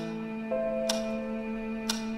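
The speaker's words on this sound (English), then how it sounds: "Can I move over there and check out the clock?" A clock ticks steadily in the horror adventure game Scratches, its soft ticks spaced about a second apart over a sustained tonal hum of background music.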